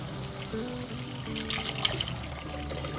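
Water pours steadily into a fish roe curry masala in a cooking pot, a continuous close splashing trickle with no talking.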